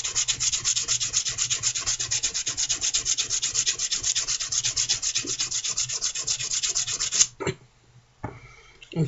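A golf wedge is sanded by hand with 400-grit sandpaper in quick, rhythmic back-and-forth rasping strokes, loud and close, stopping abruptly near the end before a couple of brief scrapes.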